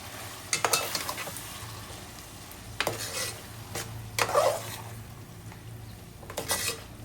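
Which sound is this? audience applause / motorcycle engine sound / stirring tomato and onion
stirring tomato and onion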